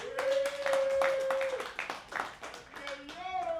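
Scattered audience clapping at a comedy and hip hop show, a series of distinct, fairly close hand claps with a sustained musical tone and a voice mixed in.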